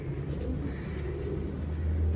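Low, steady pigeon cooing from a large flock of domestic pigeons in a loft, continuous soft rumbling coos close by with no talking.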